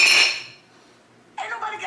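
A metal top plate pops off a bipod steering kit and a Belleville washer clinks: a bright metallic clink, a brief quiet, then a second rattling metallic clatter close by.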